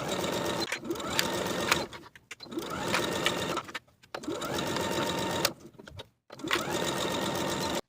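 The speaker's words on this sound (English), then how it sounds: "Sew from the lower notch to the bottom of the garment with a 3/8 inch seam allowance and backstitch at both ends" A sewing machine stitching a garment side seam from the lower notch to the hem, running in several steady bursts of rapid stitching separated by short pauses, close and clear.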